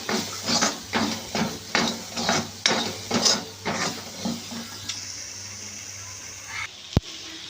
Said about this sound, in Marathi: आता यामध्ये 1 चमचाभर जिरेपूड घालूया आणि आता हे छान परतून घेऊया